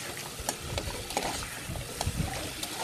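Mung bean stew with ampalaya leaves being stirred in a sautéing pot, soft scraping strokes over a low steady sizzle, with a few sharper clinks of the spoon against the pan.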